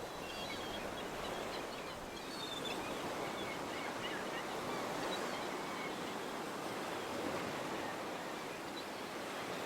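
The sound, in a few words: ocean waves on a beach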